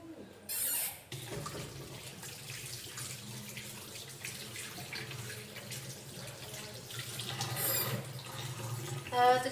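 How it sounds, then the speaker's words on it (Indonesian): Hands lathered with soap and rinsed under a running tap, the water splashing close and steady with scrubbing and brief surges, while faint speech can be made out in the background. "mari kita melakukan 6 langkah cuci tangan dengan air mengalir dan sabun"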